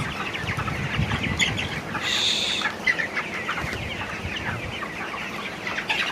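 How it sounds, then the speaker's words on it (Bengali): A flock of chickens in a poultry farm shed clucks continuously nearby in a busy, overlapping chatter, with one louder, higher call standing out briefly. "এগুলো মুরগি"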